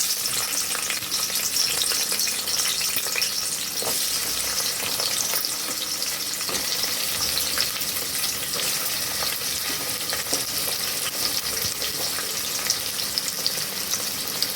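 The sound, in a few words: onions frying in oil for goat head curry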